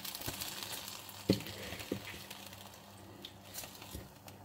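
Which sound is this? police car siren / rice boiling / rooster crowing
rice boiling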